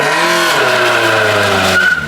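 An EG hatch with 39K miles strains through a burnout attempt, its engine revving hard and tires squealing continuously at close range, loud and sustained throughout.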